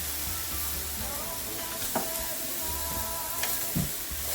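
Minced garlic sizzles in a pan among vegetables for a shrimp Alfredo dish, a quiet steady frying hiss with a few faint utensil taps, close by and without talk.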